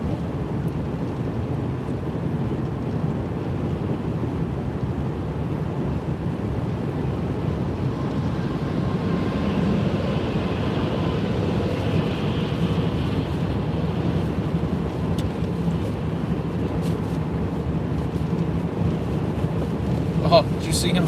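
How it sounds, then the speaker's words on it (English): Strong wind blows during winter storm Izzy, a steady, dense roar with rumbling gusts and buffeting that keeps up throughout beside a road. "A lot of wind too."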